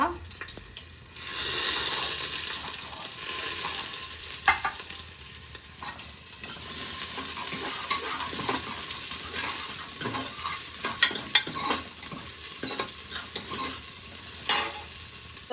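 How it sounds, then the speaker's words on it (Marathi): Onion, chili and spices for dal khichdi are stirred and sautéed in a pan. A steady close sizzle runs throughout, with scraping spoon strokes and occasional clinks against the pan, and no voices. "हे कांदा सगळं हे मिश्रण आहे ना चांगलं परतून घ्यायचंय जोपर्यंत कांदा ब्राऊन नाही होत ना तोपर्यंत"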